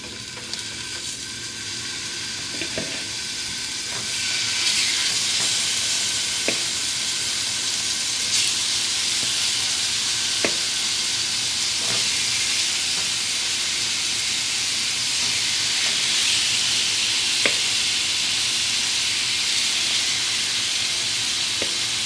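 Seasoned food frying in a pan on a home stove, a steady loud sizzle and hiss that swells after a few seconds and keeps going, with occasional faint clicks and knocks and no talking.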